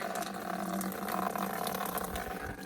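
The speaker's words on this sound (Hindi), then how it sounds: "तो यहाँ से पानी आ रहा है" Snowmelt water runs from a pipe in a snowy mountain setting, a steady gushing splash with a constant tonal hum, fairly quiet and continuous.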